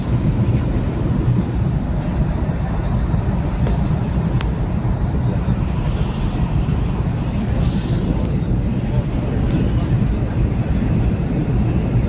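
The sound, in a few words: small aircraft cabin noise in flight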